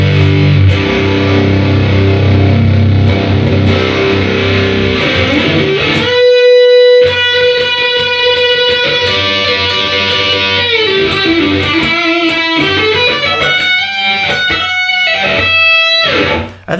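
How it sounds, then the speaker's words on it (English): Les Paul electric guitar played through a pedal with the distortion turned all the way up, giving loud fuzzy sustained chords and single notes that ring out, then choke off to silence at the end. "let me crank the distortion all the way up and let's see if we can get to fuzz town"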